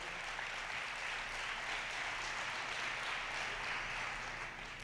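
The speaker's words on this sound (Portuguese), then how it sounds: "Um aplauso ao Senhor." A church congregation applauding for the Lord during a bilingual Spanish-Portuguese service, a faint, even patter of many hands clapping continuously with no talk over it.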